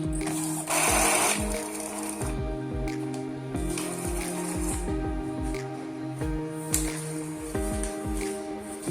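An Epson L120 inkjet printer runs with rapid mechanical clattering and repeated rhythmic strokes, a busy whirring chug that continues throughout.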